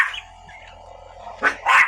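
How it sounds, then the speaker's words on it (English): Dogs bark at the noise of a battery-operated generator running outdoors, giving a couple of short, close barks near the end over a low steady hum, with a voice briefly audible. "they're barking at the noise"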